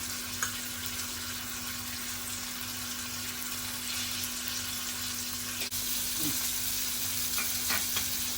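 Black creek fish frying in oil in a pan over medium heat, a steady, dense sizzle that holds even throughout with a low background hum and a faint clink near the middle.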